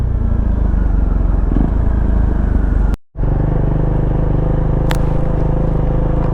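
A motorcycle ridden in third gear with the visor closed gives a loud, steady engine drone mixed with heavy wind rush. The sound cuts out briefly near the middle, then the same roar resumes.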